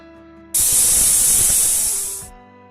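A pressure cooker lets off steam in one loud, sustained hissing whistle that bursts in suddenly, holds for nearly two seconds, then tapers off.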